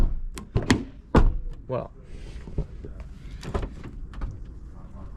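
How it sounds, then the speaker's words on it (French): A door of the 2025 Citroën C3 Aircross shuts with a few solid, close thunks, one heavier than the others, while a person talks around them. "Très beau bruit de porte."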